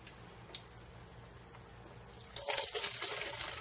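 Homemade wood-ash degreaser liquid poured through a strainer into a container, starting as a quiet trickle and swelling into a louder, steady pouring splash over the last second.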